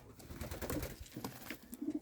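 Yellow Czech show pigeons coo softly in a new loft, a low, quiet throaty burble that carries on through the moment with no voices.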